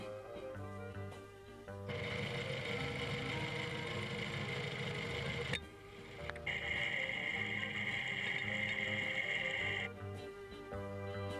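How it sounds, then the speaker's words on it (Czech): A muffled mechanical hum with a steady ticking rhythm from a running car engine, heard close up and internal through a stethoscope. "Co se děje uvnitř motoru, uslyšíte pomocí stetoskopu."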